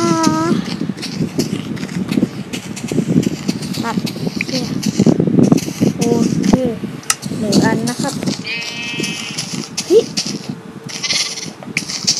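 Sheep bleat repeatedly in Minecraft Pocket Edition, short wavering cries scattered over other game noises while a person talks throughout.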